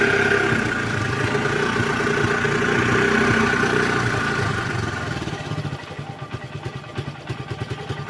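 A motorcycle being converted into an off-road bike idles after a kick start, a loud, close, steady engine note that turns into a looser, pulsing chug toward the end, with no talking.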